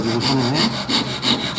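Hand saw cutting wood for a dovetail joint, five rhythmic back-and-forth rasping strokes with a bright scratchy edge, close and clear, no speech.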